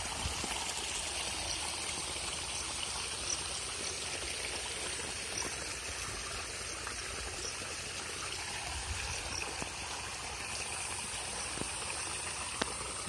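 Stream current flowing near a village bridge in rural Bangladesh, a steady broadband wash of running water with light trickling detail throughout, continuous and fairly close with no talking.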